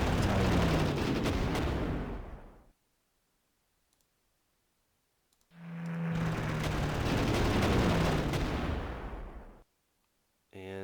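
Strategic bombers striking a target in the strategy game Panzer Corps, rendered as two loud, dense bursts of rumbling explosive fire, each lasting a few seconds, separated by near silence, with a brief softer sound at the end.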